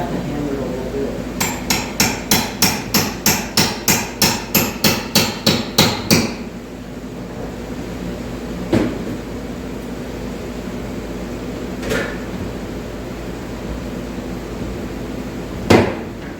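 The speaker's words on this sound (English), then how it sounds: "I'm gonna have to hammer it a little bit." A hammer drives into an exterior shop door during installation: a quick run of about fifteen evenly spaced, ringing blows, then a few isolated strikes after a pause.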